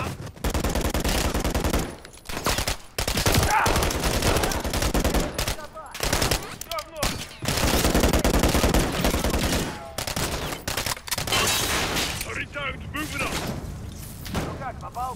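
Dense automatic and single-shot gunfire from Call of Duty Modern Warfare 3, bursts ripping loudly through most of the stretch with short gaps between, while players talk over the shooting.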